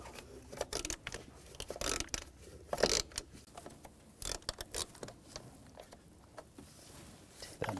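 Ratchet wrench with a 10mm socket loosening a bracket nut on a 2006-2010 BMW 550i 4.8L V8, faint irregular clicks and metallic rattles with quiet handling noise between.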